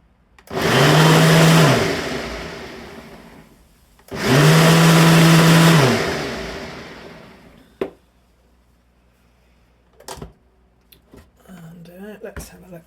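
A NutriBullet blender whirs in two short pulses, each a loud steady motor roar of about one to two seconds, stirring honey into a latte, followed by quiet clinks.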